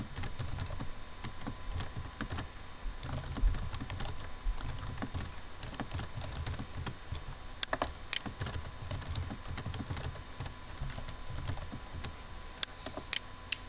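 Quick, irregular typing on a computer keyboard while writing PHP and HTML code, with dense close clicks and occasional louder key strikes that run on without pause and without speech.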